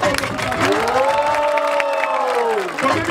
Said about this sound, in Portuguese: Oh, mais uma salva de palmas.